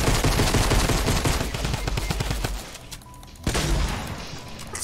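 Gunfire in Fortnite: dense, loud rapid shots roll continuously, ease off briefly, then resume with a fresh burst, with no voices over them.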